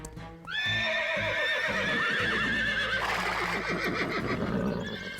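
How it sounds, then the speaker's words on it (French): Agitated horses in a cartoon stable scene: a long loud whinny rises over continuous clip-clopping hooves, followed by more neighing and busy hoofbeats, all close and without speech. "Il doit sûrement y avoir quelque chose qui énerve les chevaux."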